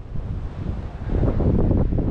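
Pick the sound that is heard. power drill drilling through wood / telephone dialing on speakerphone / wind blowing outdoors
wind blowing outdoors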